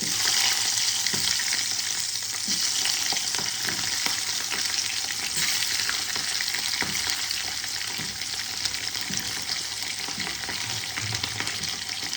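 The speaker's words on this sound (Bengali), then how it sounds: "এবার আমি ওই তেলেই ক্যাপসিকামগুলোকে ভেজে তুলে রেখে দেবো।" Capsicum pieces frying in oil in a kadhai, a dense, steady sizzle with occasional stirring scrapes and crackles, close and unbroken, with no voices.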